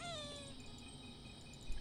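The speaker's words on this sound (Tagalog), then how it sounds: "Daming pusa." Cats meowing in the online game Ragnarok Online: a quiet, brief rising-and-falling meow at the start, followed by faint steady background ambience, no talking.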